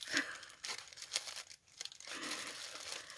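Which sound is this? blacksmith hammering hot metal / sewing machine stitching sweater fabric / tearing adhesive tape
tearing adhesive tape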